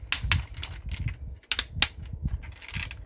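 Ratcheting knee joints on a Playmates Power Rangers Re-Ignition combinable Megazord toy, a series of sharp plastic clicks in two close clusters, near and crisp, with quieter handling noise between them.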